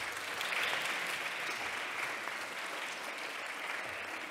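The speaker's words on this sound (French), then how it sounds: "Vous avez deux raisons pour l'applaudir." Steady applause from an audience at a French academic colloquium on poverty research, following a round-table talk. The clapping is dense and even, filling the whole stretch at a moderate level with no voices rising above it.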